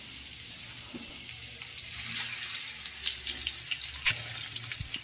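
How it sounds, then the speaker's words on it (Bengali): Pieces of boal fish frying in hot mustard oil give off a steady, close sizzling hiss, with sharper crackles and spatters popping through now and then and no one talking. "এখন আমরা মাছ ভালো করে ভেজে নেব।"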